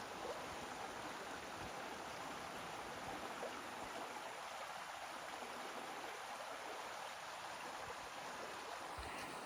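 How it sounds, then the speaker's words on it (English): Steady, broadband rush of a water stream flowing through a Tasmanian forest, soft and even in level with no breaks, heard alone without voices. "Lovely sound of water,"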